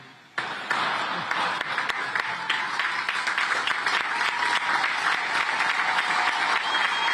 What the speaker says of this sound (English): This guy started clapping late.